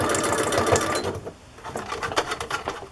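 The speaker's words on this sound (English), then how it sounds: "So I just sew a stitch on the back and get that secure." A sewing machine stitches fabric for a handmade book journal, a loud, steady mechanical whirring with rapid rhythmic needle clatter running throughout, briefly easing before picking back up.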